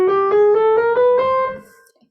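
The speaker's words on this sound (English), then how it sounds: "it's a chromatic scale" A chromatic scale climbs in single semitone steps, about seven evenly spaced notes each struck cleanly and sustained, loud and close, with the last note ringing out and fading to silence.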